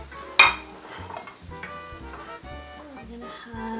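Three cloves of sliced garlic sizzle in olive oil in a pan, a steady close crackling fry that follows a sharp clatter at the start.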